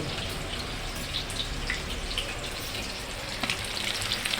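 Fish frying in hot oil for a homemade fish fry, a steady, close crackling sizzle with scattered sharp pops running throughout, no voices.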